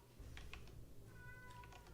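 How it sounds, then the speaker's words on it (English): A domestic cat meows several times indoors: short, fairly faint calls over a steady low background hum, with some light clicking that sounds like typing. "Can you hear Sam? That's Sam meowing."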